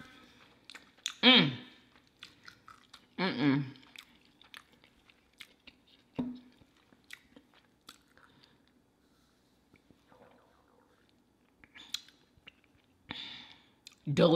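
Someone bites into homemade deep-fried tacos with melted cheese, producing several distinct crunchy, wet chewing bursts spaced a few seconds apart, close and fairly loud against a quiet background.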